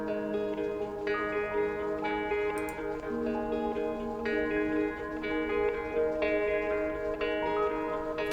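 Layered ambient pads and a soft piano run through a Valhalla reverb, sustained tonal chords shifting every second or so with faint ticking accents, a smooth, even wash of sound with no voices.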